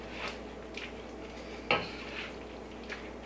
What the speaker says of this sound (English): Give all of this a really good stir.